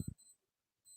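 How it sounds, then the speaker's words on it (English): A wristwatch beeping: a couple of short, faint electronic beeps at the start and end of a brief, otherwise quiet moment. "That's my watch beeping."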